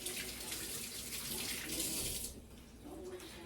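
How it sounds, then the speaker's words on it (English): Water runs from a kitchen tap as hands are washed, a steady close hiss and splash that lightens toward the end. "I'm going to wash my hands real quick"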